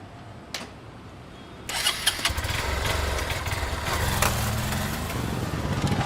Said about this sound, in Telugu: సరే, బైక్ తీ, పదా.